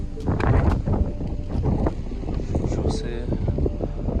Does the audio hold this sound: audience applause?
no